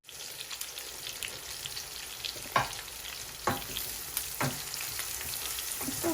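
Onions fry in a pan with a steady close sizzle, broken by a few scraping stirs spaced a second or so apart; no one speaks.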